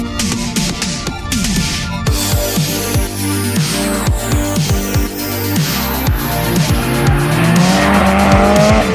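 A race car with an SR20 engine swap, formerly rotary-powered, laps Thompson Speedway with loud engine revs, rising gear pulls and repeated tire squeal through corners, close and continuous throughout.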